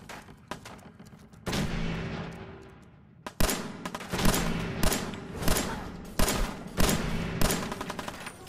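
Repeated gunfire from the video game Fallout 4 during a fight inside the Museum of Freedom, loud bursts and single shots in an uneven rhythm that continues through most of the stretch, with no talking.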